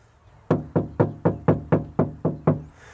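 Knocking on a bare metal body panel of a 1991 Jeep Cherokee XJ with no sound deadening: nine close, evenly spaced knocks, each with a hollow, ringing tail that lingers between hits.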